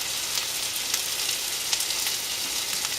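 Sliced zucchini squash with butter sizzles steadily in a frying pan, a continuous close, bright hiss with small pops throughout and no talking.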